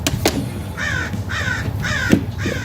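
An American crow caws three or four times in a row, harsh and fairly loud, against a steady low background rumble, with no talking.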